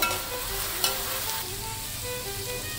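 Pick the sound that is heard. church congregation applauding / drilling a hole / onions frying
onions frying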